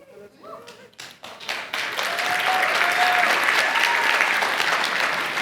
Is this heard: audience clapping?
yes